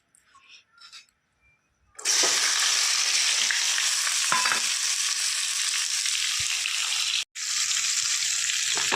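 After a couple of seconds of quiet, a loud, steady sizzle of tempering spices in hot oil bursts up and continues, with a brief break near the end.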